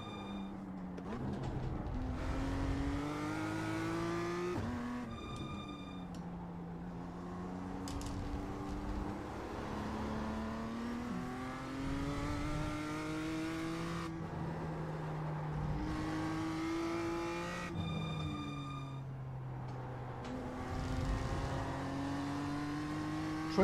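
BMW M2 GT4 race car in iRacing accelerating through the gears, engine note climbing steadily with quick upshifts, loud and continuous throughout.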